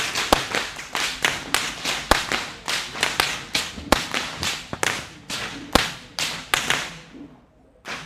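Whip masters crack long whips at the Kandy Esala Perahera procession in Kandy, Sri Lanka: around twenty sharp, loud snaps ring out in a rapid, uneven run, each leaving a short echo, then fade into quiet at the end.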